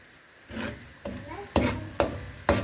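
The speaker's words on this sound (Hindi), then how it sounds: "अच्छी तरह से घी में सूजी को मिक्स करेंगे और साथ साथ जो चम्मच आपने हिलाते रहना है" A spoon stirs semolina in hot ghee with cardamom, giving four or five distinct scraping strokes over a soft sizzle, close and clear.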